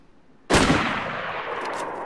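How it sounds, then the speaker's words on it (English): A sniper rifle shot in the video game DayZ cracks once, loud and sudden, then rolls off into a long fading echo over about a second and a half, heard alone without talk. "Somebody's sniping at us."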